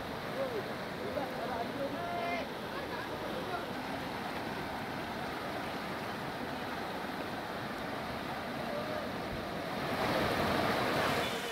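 Heavy floodwater surges through swollen rivers and streams after torrential rain in Washim district, a steady broad rushing roar across the whole stretch, swelling slightly louder near the end, with faint indistinct voices in the background.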